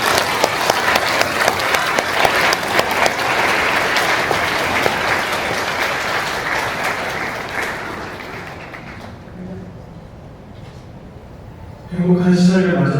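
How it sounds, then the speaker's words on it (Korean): Wedding guests in a grand ballroom applaud the newlyweds, with loud, dense clapping that tapers off and gives way to quieter room sound, then a brief burst of voices near the end. "이 부부의 시작을 박수로 환영하시겠습니까?"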